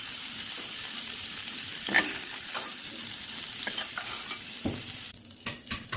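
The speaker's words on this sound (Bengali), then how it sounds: "ফুলকপিগুলো দেখুন একেবারে লাল করে ভেজে নিয়েছি" Cauliflower florets fry in hot oil for a rohu fish curry, a continuous bright sizzle up close, with a few utensil clinks and scrapes near the end.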